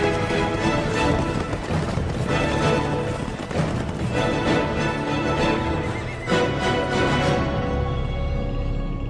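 Horses with clip-clopping hooves and neighing amid European livestock spreading across the Americas, a dense, continuous mix of hoofbeats and whinnies at steady loudness with no talk.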